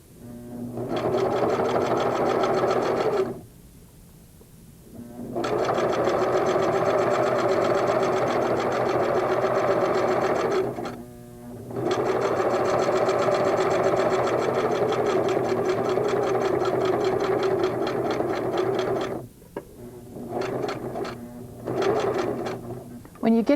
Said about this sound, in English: What you're doing when you're stitching is catching the binding in the back as well as stitching in the ditch on the front.